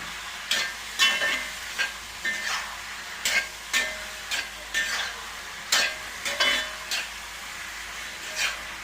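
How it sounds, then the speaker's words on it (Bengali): Chicken for a glossy orange-glazed dish, coated with chili and turmeric powder, is stirred in a frying pan: a steady sizzle broken by about a dozen sharp scraping strokes at an uneven pace, close and clear, with no talking. "তো দেখো এটাকে নাড়িয়ে দাও একটু।"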